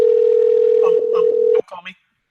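A telephone dial tone sounds while a call is being placed, a loud, steady single-pitch hum for about a second and a half that stops abruptly, followed by a brief voice.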